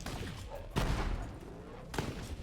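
Gunfire in the Borderlands 3 video game from the character Zane, two sharp loud shots about a second apart over a dense, noisy game soundscape.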